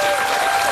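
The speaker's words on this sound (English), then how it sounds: "Applause erupt from more than 100 family and friends of Lynn Jackenheimer" Applause from a crowd of more than 100 family and friends of a murder victim, breaking out at an Ashland County announcement of a suspect's capture; dense, steady clapping fills the whole moment without pause.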